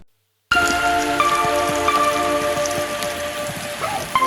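Steady rain falls around a chicken coop build site in calm, windless weather, pattering continuously on nearby surfaces with faint tonal hum and scattered drips, with no talk.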